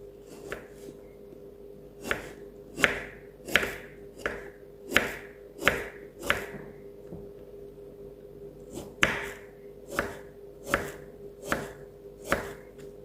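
A knife slices through lotus root on a cutting board, about fifteen crisp, evenly paced cuts sounding close and clear with a short pause midway.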